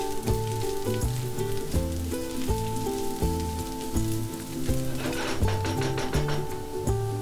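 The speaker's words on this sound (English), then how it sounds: "Then add 3 onions sliced and fry it until the onion is nice and light brown." Three sliced onions fry steadily toward light brown for an egg pulao, giving a continuous crackling sizzle like light rain, with background music playing over it.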